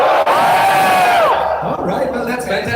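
A live audience cheers, whoops and roars at the OnePlus 6T McLaren Limited Edition launch event in India, loud and sustained crowd noise with a rising whistle-like yell early on, then a fading, scattered crowd bed.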